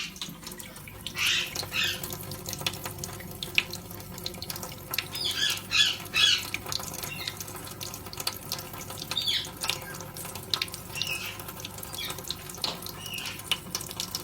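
An Indian ringneck parrot bathes in water, with splashing and running water throughout and short bright squawks breaking through now and then, fairly close by.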